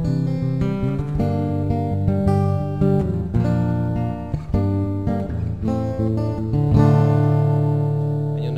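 A full section of a piece played on guitar, with repeated rhythmic strums and chord changes ringing close and steady over several bars, alone without talk.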